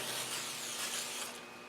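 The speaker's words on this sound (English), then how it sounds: "we're going to get some brake cleaner. We're going to spray this down right here" Brake cleaner sprays in a steady hissing burst onto the front brake rotor of a 2007 Toyota Camry, close and continuous for under two seconds before tapering slightly at the end.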